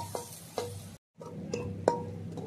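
Chopped onion, garlic and green chilli fry in a pan for a Bengali vegetable curry. A soft, steady sizzle runs under a few distinct clinks of a spoon stirring, with one brief silent gap.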